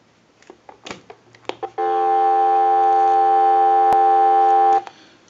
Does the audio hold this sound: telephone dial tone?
yes